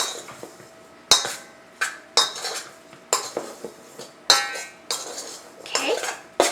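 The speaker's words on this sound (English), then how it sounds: "you're gonna stir them in." A utensil stirs flour-coated blueberries in a bowl, making close, repeated bursts of clinking and scraping against the dish, with short pauses between strokes and no talking.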